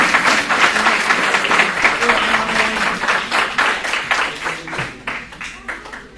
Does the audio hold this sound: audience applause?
yes